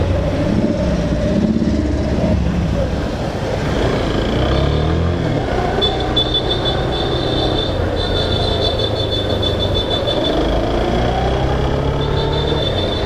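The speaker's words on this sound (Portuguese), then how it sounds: "Vai ter sempre carro desse jeito aqui engarrafado" Cars stuck in a traffic jam, heard from a motorcycle: a constant low rumble of idling and creeping engines fills the whole stretch, steady and fairly loud, with no talking.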